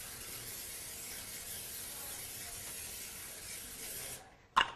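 Cooking oil hitting a hot pan, a steady broad sizzle and hiss running almost continuously at moderate level, then a short louder clatter near the end as it cuts off.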